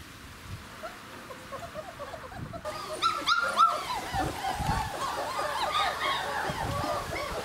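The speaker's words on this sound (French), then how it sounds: "les vocalises, je le répète encore, c'est typique des petits chiens loups qui découvrent un nouvel environnement" Three-week-old Czechoslovakian wolfdog puppies whimper, yelp and squeal in a busy overlapping chorus, the cries rising and growing denser partway through and staying fairly close.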